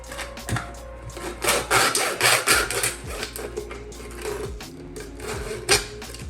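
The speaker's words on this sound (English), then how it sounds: "put your hand on top of the bottle, make sure it doesn't move, and then just move the hacksaw up and down" A hacksaw cuts through a plastic bottle with repeated rasping back-and-forth strokes in an uneven rhythm, close by and fairly quiet, with no talking.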